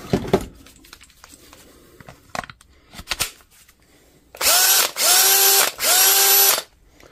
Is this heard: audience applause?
no